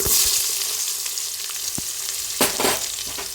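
Chopped shallots frying in hot oil in a pan give a steady, close sizzle, with a few sharp scrapes and clicks of stirring breaking through.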